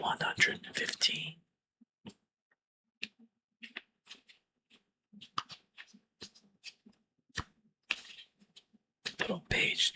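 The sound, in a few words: book pages turning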